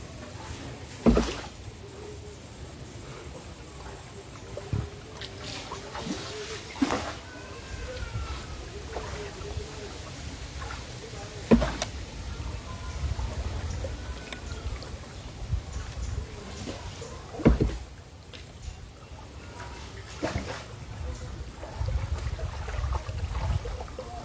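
A boat moves through floodwater among flooded homes in Noakhali, with steady water and engine-like rumble, occasional sharp knocks, and faint voices in the background.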